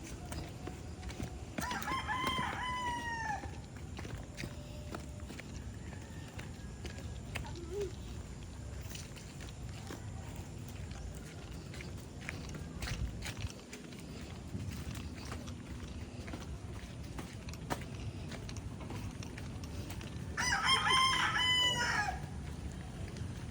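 A rooster crows twice, once early and once near the end, amid chicken clucking and a steady outdoor background murmur.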